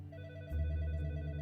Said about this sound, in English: Just then, the phone on Detective Higginbotham's desk rang